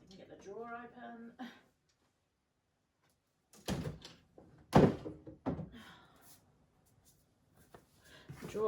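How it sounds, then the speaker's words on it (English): A stuck drawer is yanked open with several loud wooden thunks and a scraping slide, preceded and followed by a person talking nearby. "Get the drawer open."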